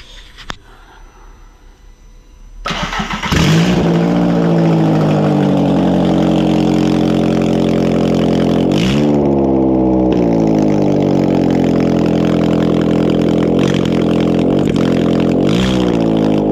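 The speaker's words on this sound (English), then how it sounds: "starter motor. Let's crank this baby and see what happens" A starter motor cranks a 1.8 20v turbo MR2 engine, which catches after a couple of seconds and settles into a loud, close, steady running drone with a few brief revs rising and falling.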